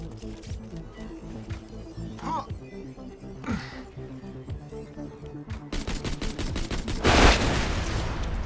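Lady Fist pistol fired in Borderlands 2 against spider tanks, a few sharp shots early and then a rapid burst of gunfire toward the end, with game effects and music underneath.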